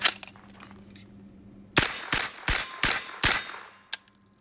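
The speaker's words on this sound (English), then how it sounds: "Magazine drops freely." Magazine dropping free from a Diamondback DB9R pistol, a series of about six sharp metallic clangs and clicks in quick succession after a quiet pause, close and crisp, followed by one last faint click.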